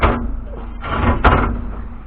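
Harbor Freight sandblasting cabinet door being opened: a rattling metallic scrape and clunk against a low background hum, with a sharper knock near the middle, close by and fairly loud.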